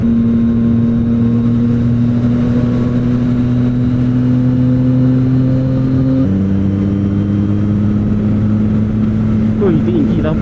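Yamaha MT-09 motorcycle engine droning steadily while riding at night, a loud sustained hum with a clear pitch drop midway as the rider shifts, with wind noise throughout.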